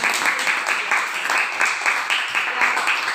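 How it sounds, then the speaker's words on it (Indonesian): Children in a Christian religious education lesson clap their hands in short, regular rhythmic bursts, a steady pulsing patter that keeps going without a break. "Kalau penuh sukacita, Ibu mendengar tepuk tangannya."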